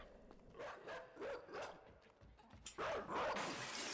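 Dog in the video game INSIDE chasing and barking, with a string of close, urgent barks and yips in quick rhythm over tense game ambience, and a burst of louder noise near the end.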